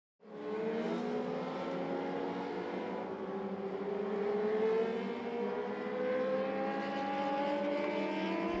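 Steelhead Late Model race cars circle the I-75 Raceway in a heat race, a smooth sustained engine drone with slowly rising pitch that fades in quickly and holds steady, close and alone.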